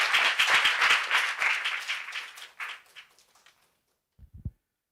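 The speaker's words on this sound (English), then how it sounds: "Please give him one round of applause." Round of applause at the close of a presentation at an AI symposium, dense clapping for about three seconds that thins and fades, followed by silence and a couple of low thumps.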